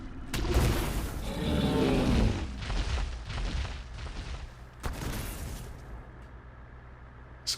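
Gunfire from a battle rig in the survival game Extinction, a rapid burst of loud booming shots up close, tapering into lighter bursts and a rumbling tail.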